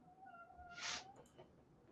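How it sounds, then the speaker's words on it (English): A house cat gives one short meow close by, a brief rising cry with a small chirp after it, heard faintly over a quiet room with no talk. "Is that the cat?"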